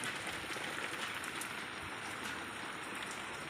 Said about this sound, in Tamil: செம மழை வெளுத்து வாங்குது நேற்று நைட்லேருந்து நைட்லேருந்து போடு போடுன்னு போட்டு தள்ளுது